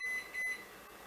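Two short, bright electronic beeps from a microwave oven keypad as a cook time is entered, close and clear with a brief pause between them and quiet room tone after.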